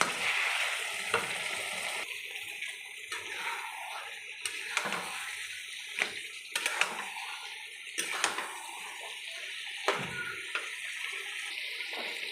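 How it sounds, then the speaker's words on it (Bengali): Chicken and spices with a little sugar sautéing in oil until the oil separates: a hissing sizzle with intermittent spatula scrapes and stirring bursts, close and moderately loud, with brief dips between strokes. "এবার সব কিছু দিয়ে ভালো করে আমি কষে নেবো যতক্ষণ না মশলা থেকে তেল ছাড়ে"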